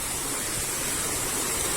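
Stream water flowing in the Kalvarayan hills makes a steady, broadband rushing sound that stays constant and close throughout, with no voices.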